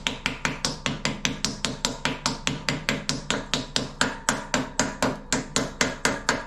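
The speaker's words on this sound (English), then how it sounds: "take your hammer and very gently start tapping around the circumference" Steady, rapid metallic hammer taps around the circumference of a caster wheel bearing, evenly spaced at about four per second, ringing close and loud with no talking.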